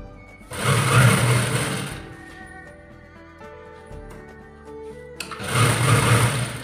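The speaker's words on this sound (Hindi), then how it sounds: "इस तरीके से अब हमें बीच में सिलाई चलानी है।" A sewing machine stitches a drawstring channel on a chudidar salwar in two short bursts of rapid mechanical whirring, close and fairly loud, separated by a quieter pause with faint tones.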